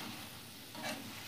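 Gulab jamun dumplings frying in hot oil, a steady soft sizzle with a brief brighter burst near the end, fairly quiet and without voices.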